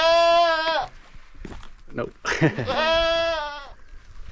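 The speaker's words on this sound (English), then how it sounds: "baby goat here" A baby goat on a Himalayan trek near Poon Hill gives two loud, close, wavering bleats, one at the start and one near the end. A person speaks briefly between them.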